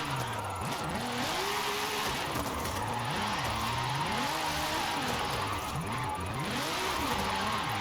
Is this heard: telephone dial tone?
no